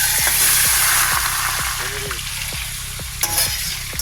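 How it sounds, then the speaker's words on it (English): Caribbean jerk shrimp sizzle and fry loudly in hot oil in a wok, a dense steady crackle broken by repeated sharp stirring scrapes, close and with no talking. "About to put that in. We've got the wok and the oil heated up."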